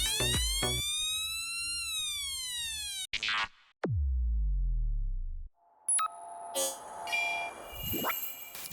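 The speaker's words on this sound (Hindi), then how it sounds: "आज हम बनाने वाले एक simple transistor based siren circuit, जिसमें हम यूज करेंगे TIP42C ट्रांजिस्टर और 2N2222 NPN ट्रांजिस्टर।" A homemade transistor siren circuit built with TIP42C and 2N2222 transistors sounds loud electronic tones: a rising and falling wail, a sharp downward sweep into a low drone, then warbling beeps and whoops.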